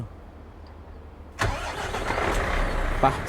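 After a quiet pause, a truck engine in Euro Truck Simulator 2 cranks and catches abruptly, then settles into a steady close idle.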